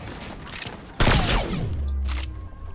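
A heavy shotgun blast fires in the Fortnite video game, one sudden loud crack followed by a sustained low rumbling tail, over quieter game ambience.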